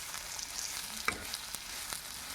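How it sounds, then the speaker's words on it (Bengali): Potato and egg fry stirred in a pan for a spicy village-style dish: a soft, steady sizzle with a few light scraping clicks from the spatula, quiet and close with no talk. "এভাবে 5 মিনিট নাড়াচাড়া করে নিতে হবে"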